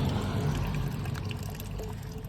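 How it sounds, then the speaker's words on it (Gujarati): Spring water from the mountains pours steadily into a bottle, a continuous gushing splash with no pauses, close and fairly loud throughout. "જો હમણાં થોડી વારમાં બોટલ આખી ભરાઈ જશે"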